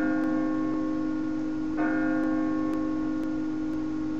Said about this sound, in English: That's a loud bell.